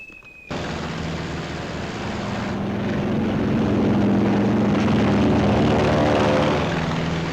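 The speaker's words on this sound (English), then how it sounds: "Our entire air group thunders out behind the group commander." Several WWII carrier fighter planes take off from a flight deck in a Philippine trade wind, their propeller engines swelling into a loud, continuous roar that builds and holds, with no talk over it.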